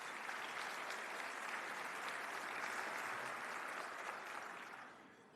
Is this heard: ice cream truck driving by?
no